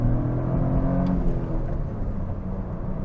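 Toyota GR Corolla engine revving inside the cabin, a steady low drone with a slight rise and fall, fairly loud and close, with no voices.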